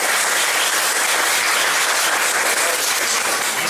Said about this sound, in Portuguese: Uma salva de palmas para o coral.